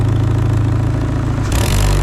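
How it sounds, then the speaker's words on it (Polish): A car engine in a garage during an oil and filter change, idling steadily and close, then rising as the throttle opens for a short rev near the end. "No daj gazu trochę."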